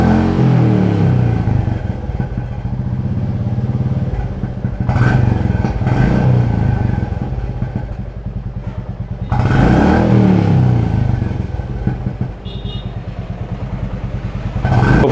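A Royal Enfield Classic 350 motorcycle fitted with an aftermarket silencer thumps at idle, then is revved up in several bursts that rise and fall back to the steady beat, loud and close with no talk.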